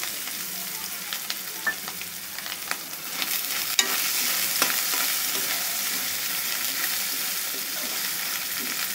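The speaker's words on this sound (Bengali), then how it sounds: "এখন আমরা পেঁয়াজ কুচি দিয়ে দেব।" Chopped onions sizzle and fry in a pan while being stirred for cooking radish greens, with a steady hiss and a scatter of crackles and utensil scrapes throughout.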